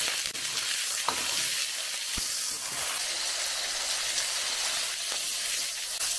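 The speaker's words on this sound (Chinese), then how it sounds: "先把猪肉炒一下。" Pork stir-frying in a wok, a steady close sizzle and hiss with occasional sharp clicks of a utensil against the metal, no voices.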